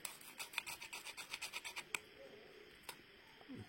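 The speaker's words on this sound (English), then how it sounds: "Alright, so we are scraping off the old adhesive" A rhythmic run of about a dozen scraping strokes as old adhesive is scraped off a surface, close and rasping, then a few scattered scrapes and quieter handling noise.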